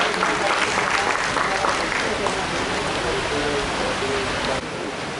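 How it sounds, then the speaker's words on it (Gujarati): An audience at a senior citizens' cultural celebration claps to welcome a performer, dense steady applause filling the room throughout, tapering slightly near the end. "નરેશભાઈને આપણે ફરી તાળીઓના ગડગડાટથી વધાવીએ."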